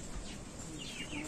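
A Rhode Island Red rooster calls outdoors, a faint, brief crowing cry set amid a wash of background noise and other birds, with no clear speech.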